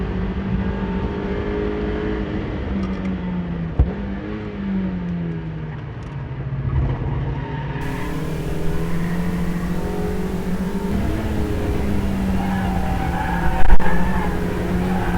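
Mazda MX5 race cars lapping a track in close racing, engines revving hard through the gears with rising and falling pitch sweeps, loud and continuous, a few sharp clicks near the end.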